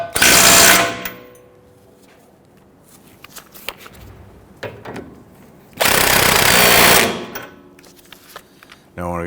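An impact wrench fires in two loud, close bursts, each lasting about a second, snugging down 17 mm nuts on a new rear sway bar end link of a 2010-2019 Ford Taurus, with quieter clinks and handling noises in between.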